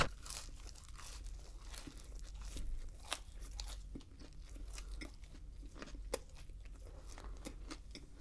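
Someone eats McDonald's fries and McNuggets close to the microphone, with soft crunching, chewing and crinkling of paper packaging scattered through low background noise.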